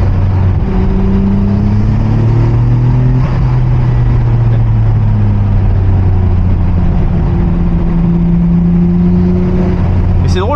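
Nissan Skyline R34 GT-R V Spec engine droning steadily from inside the cabin with a window lowered, a loud continuous low hum with slight pitch shifts as the car drives along.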